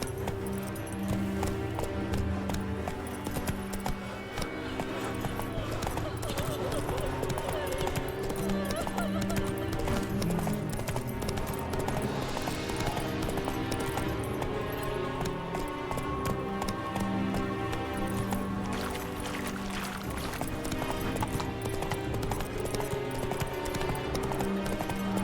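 Roach, the horse in The Witcher 3: Wild Hunt, gallops with quick repeated hoofbeats buried under loud continuous game music, the rhythm steady across the whole stretch.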